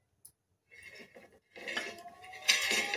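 A metal spoon scrapes and clinks against a hot tawa while ghee is spread across it, a few light taps followed by a denser, louder run of scraping near the end.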